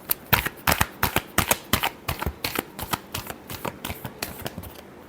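Tarot cards are shuffled by hand in a quick series of crisp, sharp riffling slaps and flutters, close up and alone, with no talking.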